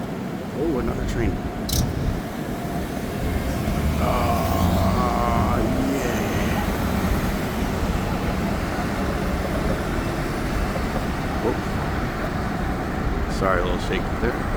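Train passing on a street in Chicago during a warm spring lunchtime walk, heard as a steady loud rumble from start to finish, blended with city traffic noise.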